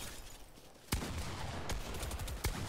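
Gunshots in the Fortnite battle royale video game: three sharp, distant-sounding shots spaced apart over a steady rushing background of game ambience.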